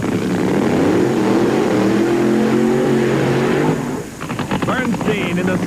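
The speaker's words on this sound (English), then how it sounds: "it's funny car time on the starting line as Kenny Bernstein rolls through the water" Loud roar of a 1985 NHRA funny car rolling through the water box on the drag strip starting line before its burnout, engine revving and pitch rising, then dropping into a rougher crackle near the end as an announcer talks over it.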